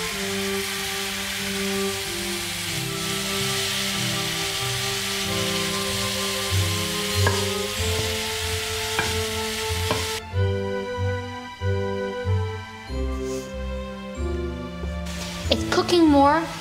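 Fatty ground beef for Korean beef wraps sizzles steadily in a pan, with scraping and clacking as a utensil spreads and breaks it up; a voice talks over it throughout.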